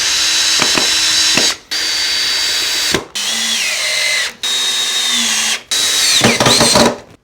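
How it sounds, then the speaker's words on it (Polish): A cordless power screwdriver drives screws into wooden supports of a small handmade lantern, four loud whirring bursts separated by brief pauses, pitch dropping as each screw seats, ending in a clatter of handling. "Czyli wystarczy tylko nakręcić wkręt."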